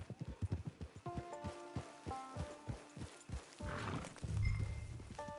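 A horse in the video game Red Dead Online makes rhythmic hoof clip-clops, then a snort and some whinnying, close and clear over faint background game sound.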